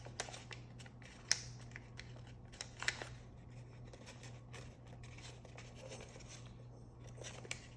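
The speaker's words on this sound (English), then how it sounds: "we're gonna turn this crease into a mountain fold as well" Paper is creased into a mountain fold while folding an origami penguin, soft crinkles and a couple of sharper taps and presses over a faint steady hum, close and quiet.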